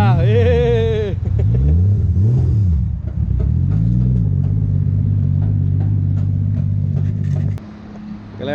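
A Nissan Skyline engine revs hard, rising and falling several times before settling into a steady rumble as the car pulls away, loud and close with faint voices in the background.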